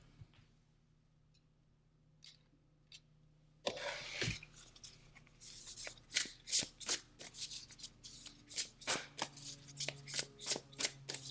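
Oracle cards are picked up and shuffled by hand after a quiet start with a few faint taps, then come rapid, close riffling and flicking bursts of card stock in an uneven rhythm.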